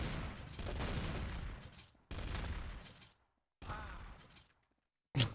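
Gunfire in the Trouble in Terrorist Town video game, bursts of rapid shots in three separate stretches broken by silent gaps, ending in one sharp loud hit.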